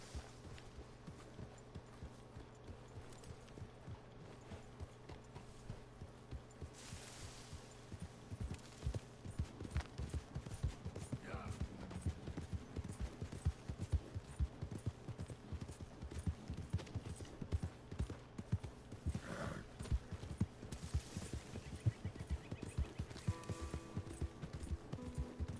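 Horse hooves clip-clop steadily in Red Dead Redemption 2, the rhythmic footfalls growing louder and busier after the first few seconds and continuing without pause over a low game ambience.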